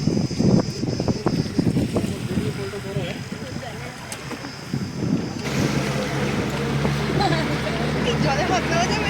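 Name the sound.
small boat passing on the dam reservoir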